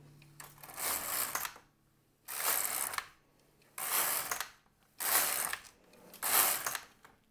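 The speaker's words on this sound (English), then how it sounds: "We knit one row, and then you go back to your main tension and keep knitting." An LK-150 knitting machine carriage is pushed back and forth knitting rows, giving five close, loud, rasping sweeps separated by short pauses.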